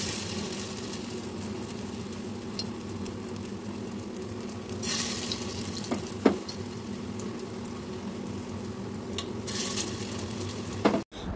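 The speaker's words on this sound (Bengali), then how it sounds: "এখন কোফতাগুলি এই তেলে ভেজে নেব" Prawn koftas made from shrimp paste fry in hot oil in a wok, a steady crackling sizzle throughout with occasional sharper pops and light stirring clinks, no talking.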